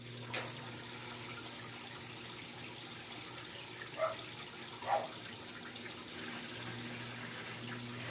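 An Electrolux LT12F washing machine filling with water for a rinse cycle, a soft, steady rush of inflowing water with a couple of brief knocks partway through.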